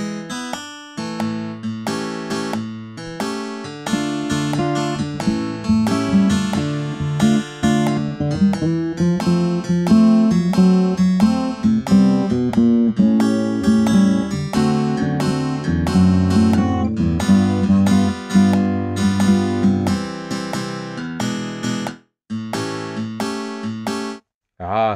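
Software tab playback of a blues guitar part: a continuous synthesized guitar line with chords and picked notes in a steady groove, loud and clear for about twenty seconds.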